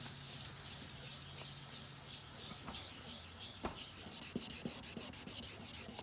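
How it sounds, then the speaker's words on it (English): A car headlight is wet sanded by hand with 1000 grit sandpaper in circular motions, a close, steady abrasive rubbing that turns into a quick rhythmic series of scrubbing strokes toward the end. "we're gonna start with 1000 grit. We're gonna start in circular motions."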